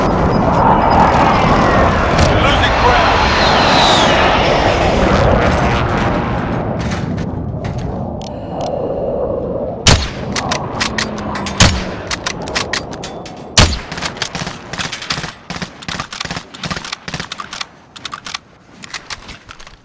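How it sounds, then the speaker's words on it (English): Video-game precision airstrike blasts from the enemy side: a loud rolling barrage of explosions settles into sharp, scattered gunfire cracks and impacts, with no talking. "Enemy precision airstrike!"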